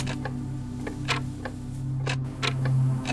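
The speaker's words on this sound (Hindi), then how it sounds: "वहां हर तरफ घड़ियों की टिक टिक सुनाई देती थी।" Many clocks ticking together in a small watch repair shop in a narrow city lane, producing a steady, fairly close patter of sharp, irregularly overlapping ticks over a low constant hum, with no voices.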